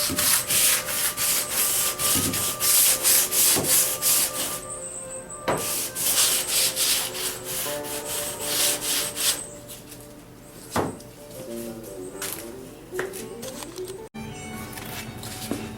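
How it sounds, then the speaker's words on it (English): Continuous rhythmic rasping of hand sanding a BMW 2002 car body with a teardrop sanding block, brisk strokes with occasional pauses and light knocks. "I've been sanding on this"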